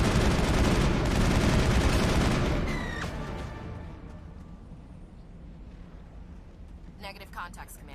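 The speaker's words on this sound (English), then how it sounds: "Who's shooting at him?" Gunfire in the Mass Effect video game, a dense loud burst of shots and booms over the first three seconds that fades into a lower rumble, with a brief sharper crackle near the end and talk present.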